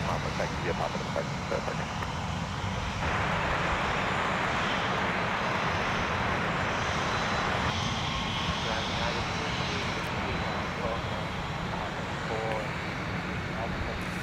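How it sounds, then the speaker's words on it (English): An Airbus A330-300 jet departs from Minneapolis–St. Paul airport, heard from the viewing area as a loud, sustained engine roar that stays steady and dense throughout. "the A330-300 departures are some of the louder departures that you will hear from the viewing area"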